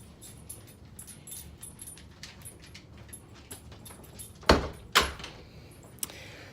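A door opens in the morning while someone juggles a phone and a cup of coffee, with two sharp clunks and a later click standing out over faint background handling noise.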